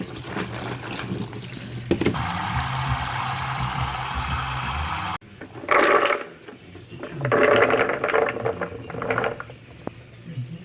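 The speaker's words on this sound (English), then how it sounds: "So you just pour it out and rinse them until the water is clear." Soaked almonds rinsed under running water for homemade raw almond milk, a steady tap stream for a few seconds, then after a cut louder splashing bursts of water poured and swirled over the nuts.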